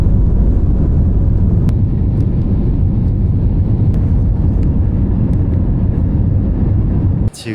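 Inside a Finnair passenger plane flying to Helsinki, a loud, steady broadband cabin roar holds throughout, with a few faint clicks, before cutting off abruptly at the end.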